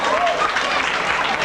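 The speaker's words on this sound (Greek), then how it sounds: "ένα θερμό χειροκρότημα." Warm applause from the audience at a Greek community society's dance event, a dense continuous wash of clapping through the short span with voices mixed in.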